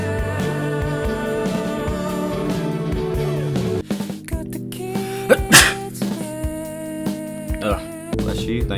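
A single sharp sneeze bursts out over music, which keeps playing around it.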